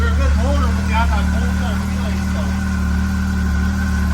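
2015 Arctic Cat ZR7000 SnoPro snowmobile engine running steadily after a cold start, a constant low idle rumble with a faint whine, while a person speaks briefly over it early on.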